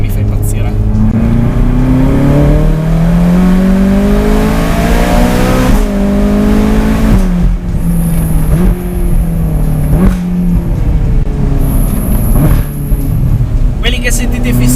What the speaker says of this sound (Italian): Che sentite fischiare sono i freni in carboceramica.